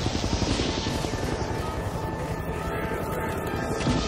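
A helicopter in the Ghostbusters video game drones loudly and steadily, its rotor hum constant and close, with game noise mixed in and no clear speech.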